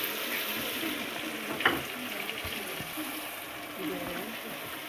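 Spices and chui jhal frying in a pan make a low, steady sizzle and hiss, with a brief stirring scrape near the middle.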